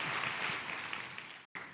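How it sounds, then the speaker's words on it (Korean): An event audience applauds at an entrepreneurship awards ceremony, with dense, steady clapping throughout that cuts off abruptly near the end and briefly resumes. "감사의 박수 부탁드리겠습니다"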